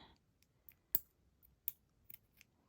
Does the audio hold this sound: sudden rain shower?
no